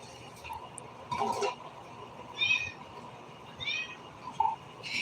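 A household cat gives several short meows spaced a second or so apart, close by and moderately loud over quiet room noise.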